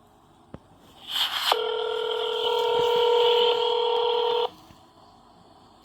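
Telephone keypad tones dialed to call back a veterans' affairs phone line: a quick burst of beeps followed by a steady, loud multi-tone signal holding for about three seconds before cutting off, with faint background noise.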